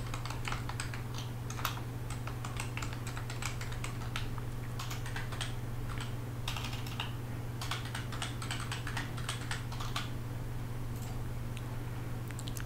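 Login details are typed on a computer keyboard in a fast, steady run of close key clicks over a constant low electrical hum.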